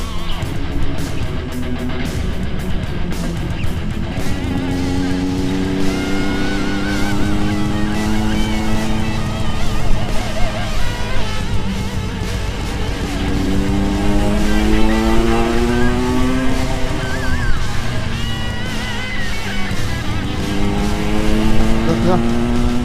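A Kawasaki Ninja 150R motorcycle engine warming up at the roadside, a loud close buzzing two-stroke note with rising and falling revs, with people talking over it.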